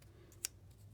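Scissors snipping small paper tabs for a 3D trompe l'oeil word drawing, a single quiet, crisp cut in an otherwise hushed room.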